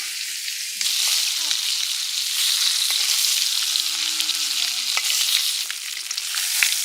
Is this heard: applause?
no